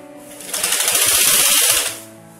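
Sewing machine stitching a folded, one-inch cloth hem on chudidar pants: a single steady, close run of rapid stitching that starts, holds for about a second and a half, then stops.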